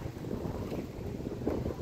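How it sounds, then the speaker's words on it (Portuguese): Wind and small waves on a water reservoir, a steady broadband rush with low choppy churning of water throughout, fairly close and even in level with no voices. "com o vento, a onda que faz"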